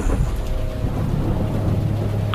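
Rain and thunder used as a story sound effect, heard as a loud, continuous downpour over deep rumbling thunder with no talk.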